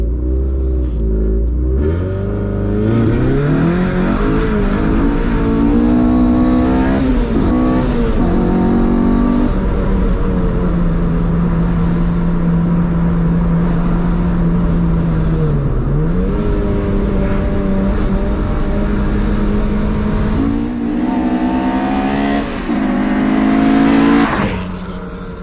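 An Opel Astra revs and accelerates hard, the engine note climbing and falling in repeated loud sweeps that sound close to the car, with no voices.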